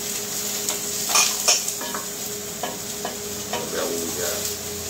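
Shallots being stirred in a cooking pot for lobster bisque, a soft sizzle under several clinks and scrapes of a utensil against the pot.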